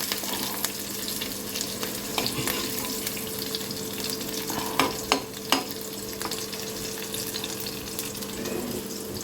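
Green chillies go into onions frying in a pan, making a steady close sizzle with scraping stirring and a few sharp knocks in the middle, and no talking.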